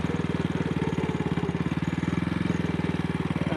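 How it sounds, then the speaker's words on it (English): An AJS motorcycle engine runs with a misfire after throttle-sticking trouble, a close, steady low thumping beat with an uneven, stumbling pulse. "Now it's developed this misfire."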